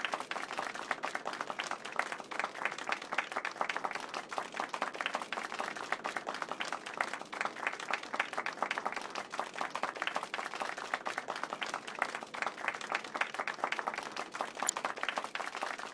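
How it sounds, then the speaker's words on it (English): Concert audience applauding a pianist in the video game Final Fantasy 7 Rebirth, steady dense clapping at moderate volume that continues throughout. "let's give our pianist a warm round of applause"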